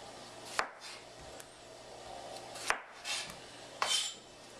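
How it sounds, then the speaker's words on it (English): A knife cuts the tips off tomatoes on a cutting board, giving three separate sharp chops spaced a second or two apart, close and clear against a quiet kitchen background. "All I'm going to do is just cut the tips off them."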